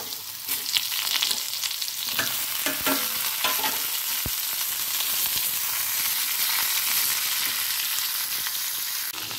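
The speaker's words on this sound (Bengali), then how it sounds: "হালকা করে নাড়াচাড়া করে নেব।" Mixed vegetables with bay leaf and five-spice seeds frying in oil as they are stirred in a pan, a continuous sizzle broken by scraping stir strokes and one sharp utensil knock.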